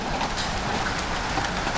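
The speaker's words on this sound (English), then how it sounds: "Yeah, we're getting hail, guys." Hail falls during a Texas thunderstorm, a dense, steady hiss of countless small impacts spread evenly throughout with no voices.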